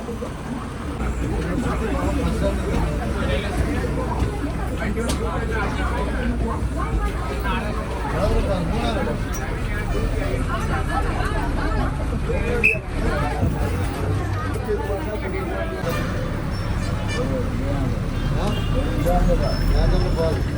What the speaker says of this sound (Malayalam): ഈ ബസ്സിൻ്റെയൊക്കെ ഷോക്കൊക്കെ പോയി കിടക്കുകയാണ് തോന്നുന്നു ഭയങ്കര കുലുക്കലും